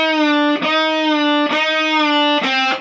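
Distorted electric guitar playing a lead line from a guitar solo, three sustained, buzzing notes, each struck with a sharp pick attack and held bright and loud.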